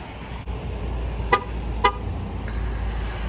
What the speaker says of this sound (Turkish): Şu korna çalması beni deli ediyor ya.